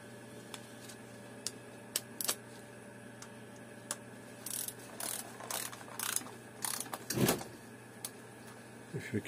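Tightening valve cover gasket bolts on an Opel Vauxhall 1.8 16v engine, sparse clicks then short bursts of ratchet ticking, close but fairly quiet against a faint steady hum, no speech.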